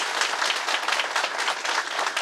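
Steady, dense applause from an audience at a party congress, a continuous even wash of many hands clapping at once with no voices standing out over it.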